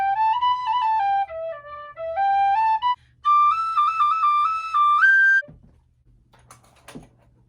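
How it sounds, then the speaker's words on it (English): A bright, clear tin whistle plays a short melody of stepwise notes, pausing once briefly, then stops, leaving a few soft rustles. "How many sewers do you know that have a tin whistle in their equipment bin?"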